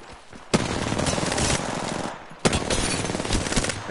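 Sustained automatic gunfire in the Apex Legends battle royale game, dense rapid bursts running almost continuously with two sharp louder onsets, loud and close with no talking.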